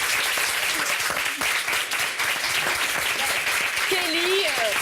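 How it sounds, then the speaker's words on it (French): A French television studio audience applauds steadily and loudly for a guest's entrance, a dense wash of clapping with a few whistles and cheers riding on top. "Merci d'applaudir Kelly Boshenko."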